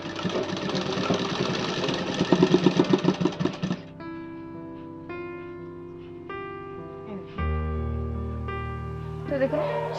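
A sewing machine stitches a kaftan nightie in a fast, rhythmic whirring burst of a few seconds, then stops, and steady background music carries on alone.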